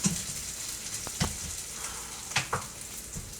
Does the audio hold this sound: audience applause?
no